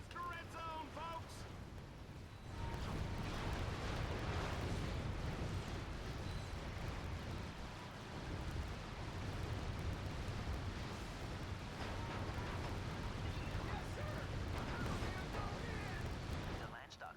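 Explosions and rapid gunfire from the arena battles of the video game Ratchet Gladiator, a dense continuous barrage that stays loud throughout, with no talk over it.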